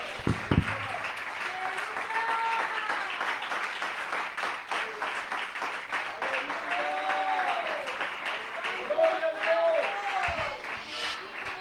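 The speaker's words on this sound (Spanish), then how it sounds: "denle un fuerte aplauso al Señor en esta preciosa mañana" A church congregation claps loudly and continuously during a Spanish-language worship service, with voices calling out and cheering over the dense applause throughout.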